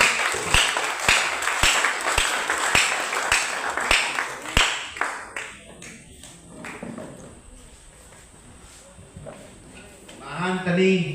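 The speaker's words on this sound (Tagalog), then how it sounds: "Palakpak liwat para sa Diyos" A church congregation claps in a steady, rhythmic unison beat for several seconds, then the crisp strikes fade out into quieter room sound, with a voice and other sound returning near the end.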